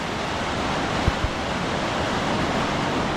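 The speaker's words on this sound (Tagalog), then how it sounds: "Pagkalaki ng baha." Large floodwater rushes in a steady, loud, broadband roar that fills the whole clip, with a couple of faint thumps partway through.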